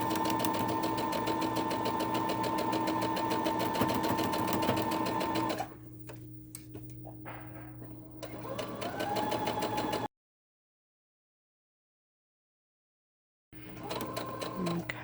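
A sewing machine runs in fast rhythmic bursts making back stitches on a minky baby blanket, its steady mechanical whir stopping and starting, with a brief silence and a quiet voice under it.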